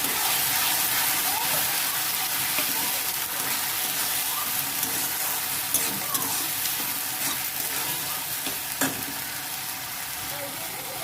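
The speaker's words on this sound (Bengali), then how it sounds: "বেটে রাখা আদা, রসুন, লঙ্কা, হলুদ সব দিয়ে দিলাম। এবার এটাকে আমি ভালো করে কষবো।" A ground paste of ginger, garlic, chili and turmeric sautéing in a hot pan, with a loud, continuous sizzle and hiss, broken by occasional stirring scrapes and clinks close by.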